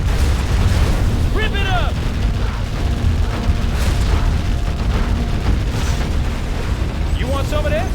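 A GLA base is being destroyed in the video game Command & Conquer Generals. Heavy, rumbling explosions and booming blasts pile up continuously, loud and close. A short unit voice line cuts in, and another voice is heard near the end.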